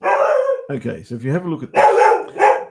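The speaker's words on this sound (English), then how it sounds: "sorry about my dog" A dog barks several times in short sharp bursts close by, overlapping someone talking.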